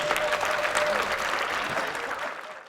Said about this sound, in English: If you could give Caroline a round of applause.